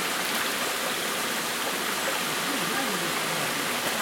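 Water seeps and streams down the rock face in a mountain gorge, a steady close rushing hiss with no breaks, running alone.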